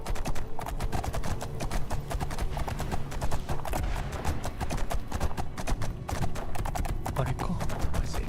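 Arvak, a horse in the video game Skyrim, trots with steady rapid clip-clopping hooves, close and fairly quiet, alongside a soft game ambience.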